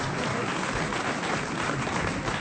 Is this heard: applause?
yes